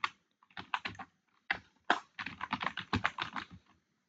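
An example is typed on a computer keyboard in quick, irregular bursts of close, crisp key clicks with short pauses between, heard alone without voices.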